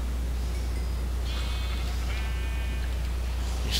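Sheep bleat in Minecraft, several short wavering calls from the flock rising over a steady low hum and background hiss, moderately loud and without talk.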